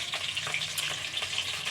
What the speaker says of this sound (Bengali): দেখো বন্ধুরা, এখানে হচ্ছে মাছ ভাজা